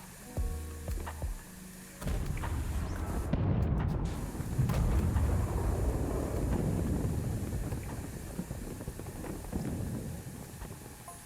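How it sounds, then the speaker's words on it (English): An explosion in PowerWasher Simulator: a loud onset around two seconds, followed by a sustained, rumbling, crackling roar that gradually fades over several seconds, with no voices. "I just heard an explosion."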